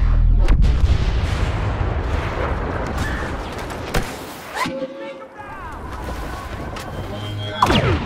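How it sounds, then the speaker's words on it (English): Blaster fire in Star Wars Battlefront, Walker Assault mode, crackles and booms loudly in rapid volleys with heavy rumbling impacts and whooshing shots. "Who wants some blaster fire?"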